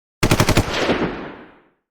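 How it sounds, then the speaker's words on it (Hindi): A rapid burst of about six gunshots rings out in fast succession, loud and close, then trails off into a fading echo over roughly a second, with no voices. "गोली चलती है।"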